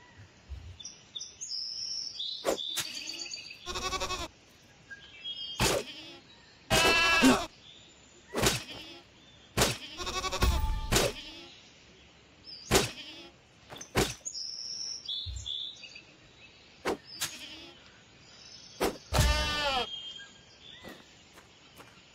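Goats bleat in the video game Wild Terra 2 in a string of separate wavering calls, some loud and some softer, spread across the scene with short gaps between them.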